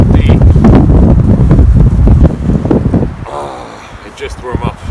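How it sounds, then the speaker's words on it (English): Strong wind gusts buffet a Polish military lavvu tent during a winter windstorm, a loud rough roar of microphone wind that eases after a few seconds into softer flapping and rustling. "You can hear the wind still"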